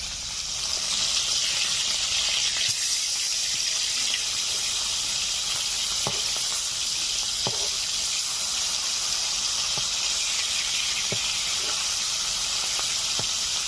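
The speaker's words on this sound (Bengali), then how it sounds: "মাছগুলো ভাজা হচ্ছে" Dhela fish sizzle in hot oil in a village-style kitchen, a steady loud hiss with occasional faint pops, and no talking.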